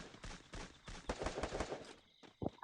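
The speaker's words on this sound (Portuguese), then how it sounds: "Atira, galera, atira" Gunfire in the Free Fire video game, a run of sharp rapid shots clustered in quick bursts, fairly close, fading to a quieter gap before a final couple of shots.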